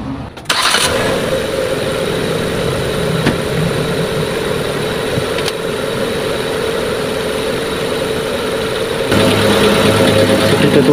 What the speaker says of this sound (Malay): korang kena start enjin dulu supaya dia sedut air tu masuk ke dalam